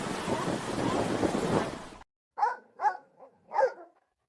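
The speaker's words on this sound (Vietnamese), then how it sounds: "Con sư tử biển." Crashing surf fills the first half; then a sea lion barks four times alone, in short, hoarse, close calls with brief gaps between them.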